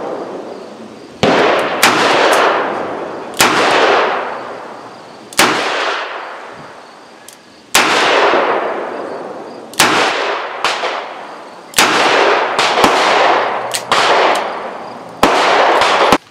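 Loud, close shots from a Smith & Wesson Model 28 Highway Patrolman revolver in .357 Magnum. About a dozen sharp cracks come at irregular intervals, each followed by a ringing decay.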